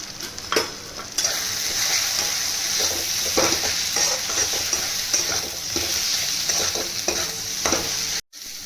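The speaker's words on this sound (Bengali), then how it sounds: "2 মিনিট নেড়ে লঙ্কা গুঁড়োটা দিয়ে দেবো, হলুদ গুঁড়োটা দিয়ে দেবো" Potatoes and spices, with chili and turmeric powder, stirred and frying in oil in a pan for a khor chatu curry: steady close sizzle with repeated scraping strokes of a spatula throughout, no talk.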